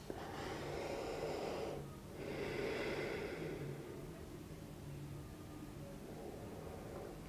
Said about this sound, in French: Et retrouvez votre respiration.